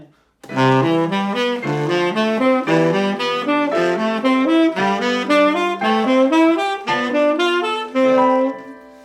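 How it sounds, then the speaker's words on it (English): A brass horn plays flowing arpeggiated chord tones, notes stepping up and down smoothly in a continuous phrase, close and clear with no talking. "You can also arpeggiate that from your horn"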